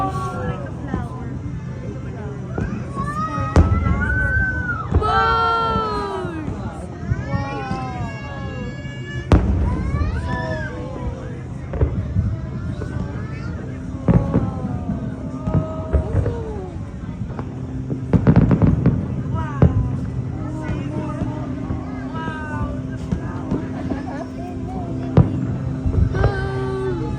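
Fireworks bursting over Centara Sonrisa at the 2024 show, sharp booms and crackling explosions coming in irregular bursts, some near and loud, mixed with whistling rockets, crowd chatter and someone talking excitedly.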